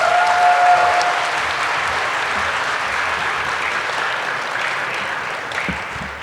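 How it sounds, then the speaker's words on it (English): An audience at a Martin Luther King Jr. celebration applauds to welcome a speaker, a broad even wash of clapping that holds steady and tapers a little toward the end, with no talk. "Now please welcome Alexis Thomas with a big round of applause."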